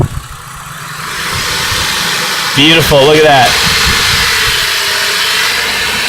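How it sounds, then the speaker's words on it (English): A Chrysler Concorde 2.7L engine idles after a timing and water pump repair, with a steady, even hum throughout. Someone speaks briefly over it partway through. "That engine doesn't even move at all. Look how smooth that is."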